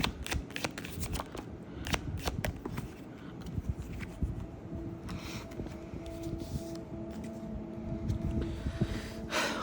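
Tarot cards being handled and shuffled nearby, a steady run of soft papery riffles, flicks and slaps, with no voices over it.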